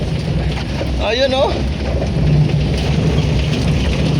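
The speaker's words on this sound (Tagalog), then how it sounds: "Grabe yung ulan." Heavy rain pours steadily on a mountain, a loud dense hiss filling the whole stretch, while a person speaks briefly over it.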